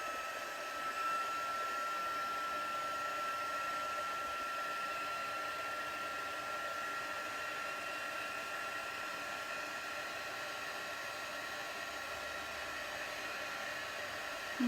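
A heat gun blows with a steady, even hiss and whir throughout while melting embossing powder on double-sided craft tape.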